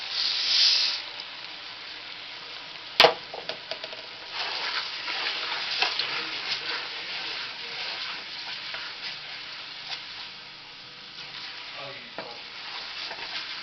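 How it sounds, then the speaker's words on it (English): Rice pours into a sizzling pot of jambalaya with a sharp clank, followed by a steady frying hiss and the scrape and patter of stirring, close and continuous. "Okay, I'm going to add the rice now."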